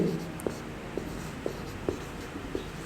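Pen or chalk writing out an answer during a Class 10 maths lesson, heard as faint regular taps and strokes roughly every half second over a steady room hiss.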